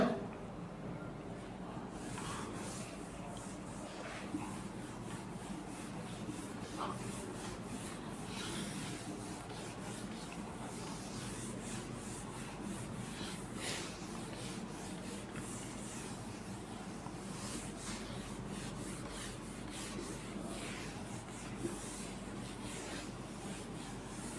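A board being wiped clean of writing in a classroom: a continuous soft rubbing and scraping that runs steadily throughout, fairly faint with a low background hum and occasional light knocks.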